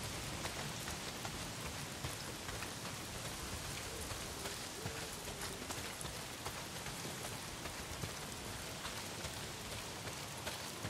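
Heavy rain pours steadily in the zombie survival game Days Gone, a dense, loud wash of drops hammering surfaces without a break throughout.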